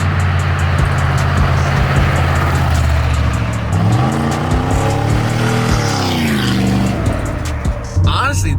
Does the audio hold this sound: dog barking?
no